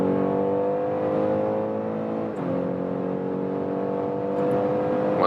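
A steady engine hum rises gradually in pitch as a 2021 BMW X3 xDrive30e plug-in hybrid SUV accelerates from 40 km/h, heard from inside, with a brief shift partway through before the climb continues.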